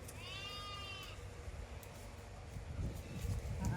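Goats bleat as they are herded outdoors in the heat, a few wavering calls in the first second over steady ambient noise and low rumble that grows louder toward the end.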